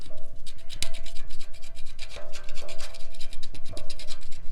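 Easy, rhythmic scrapes strip softened coating off a hot Mitsubishi Eclipse GSX subframe, a quick series of close, rasping strokes with occasional light metallic ticks.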